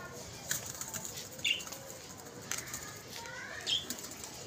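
A pigeon flaps its wings in short, sharp bursts while being held in someone's hands, about four flurries spaced roughly a second apart over a low background hum.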